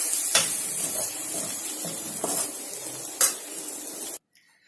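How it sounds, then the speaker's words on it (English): Potato bhaji being stirred in a pan after lemon juice and chopped coriander go in, a soft continuous sizzle with a few scraping strokes of a spoon against the metal, close and steady until it cuts off near the end. "switch off our gas, pour in the lemon juice and the garnish of coriander and give it one final mix"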